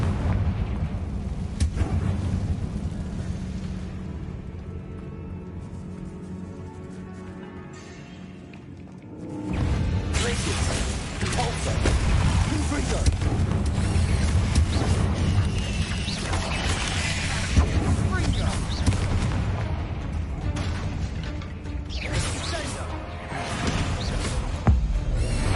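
The Confringo blasting spell from Hogwarts Legacy goes off in a cavernous tomb, a sudden loud burst at about nine seconds followed by a long roaring, rumbling wash of fiery noise that lingers at steady intensity.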